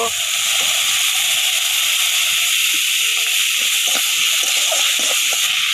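Cabbage leaves and coriander fry in mustard oil with a continuous loud hiss and sizzle. Faint soft crackles and bubbling run underneath.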